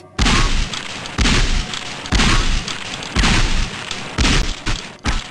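Shotgun blasts on a Gunman Chronicles training course, five or six loud booming shots at roughly one-second intervals, each followed by a short reverberant tail.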